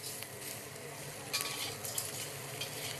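Shrimp sizzle loudly in a hot wok on a BlueStar cooktop, a dense, steady hiss of frying with a few brief clinks of the utensil against the pan, close and with no talking.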